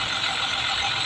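A truck manoeuvres and turns in India, giving a steady, loud engine rumble with a bright hiss throughout and no clear pauses.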